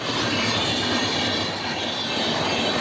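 A passing train roars steadily and close by, with a dense rattle of wheels and a high metallic squeal running throughout, loud and continuous with no voices.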